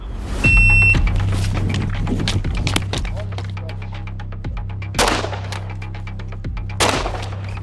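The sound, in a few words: gunshots from pistol and rifle at a tactical shooting competition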